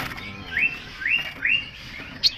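A cucak cungko bird, a species native to China, gives three clear rising whistled calls in an even rhythm, followed by a short sharp chirp, close and fairly loud over quiet background noise.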